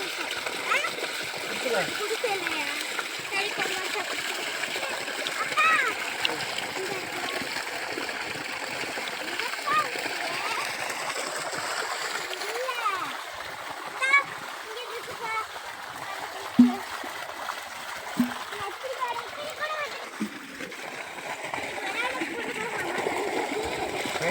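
Water splashes and streams steadily as it is drawn for hand washing before a meal outdoors at a garden farm, continuous and fairly close, with children's voices and talk running over it throughout.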